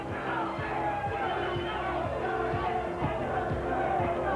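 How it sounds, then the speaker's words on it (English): A boxing arena crowd roars after an uppercut lands, a continuous loud swell of cheering and shouting with no clear break. "The crowd, again, showing its both appreciation and support."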